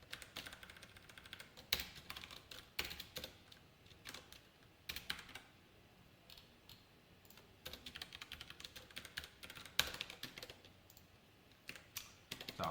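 Rapid, irregular clicking of a computer keyboard as code is typed, close and fairly quiet, in bursts with short pauses and no talking.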